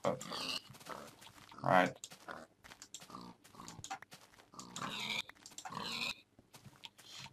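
Minecraft pigs grunt and oink as they are struck, with short squeals popping up between a man's close, steady commentary.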